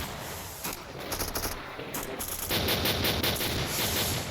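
Automatic gunfire in the shooter game S.T.A.L.K.E.R.: Lost Alpha, with rapid bursts of shots early on giving way to denser, louder sustained firing in the second half, with no talk.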